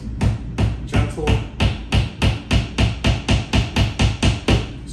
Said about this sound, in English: This hammering can be an acquired skill